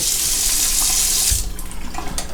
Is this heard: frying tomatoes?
no